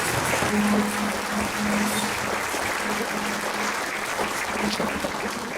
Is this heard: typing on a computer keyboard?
no